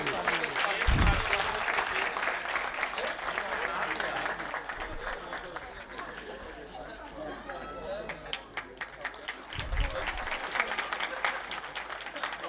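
An audience at a Catholic thanksgiving Mass applauds warmly as a priest receives a gift, a sustained wash of clapping with murmuring voices and a few thumps, swelling and easing over several seconds.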